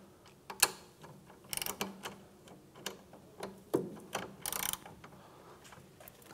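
Ratchet wrench clicking while loosening 14 mm brake caliper guide pin bolts on the rear brake of a 2011–2016 Hyundai Elantra, irregular quiet ticks and short rapid ratcheting bursts, close but faint.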